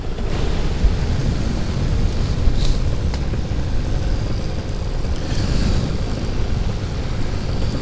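A propeller airplane coming in to land by a beach near an island, a steady broad engine and prop drone holding loud and close throughout with wind-like noise, no talk.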